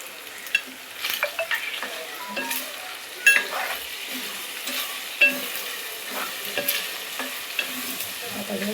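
A ginger, garlic, green chilli and coriander paste roasts in a pan for a Konkan clam curry, with a soft steady sizzle under repeated scraping stirs and occasional sharp clicks of a spoon against the metal.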